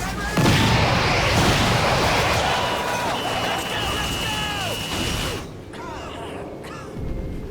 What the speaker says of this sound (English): Incoming! Get down! This is it! Firing rockets!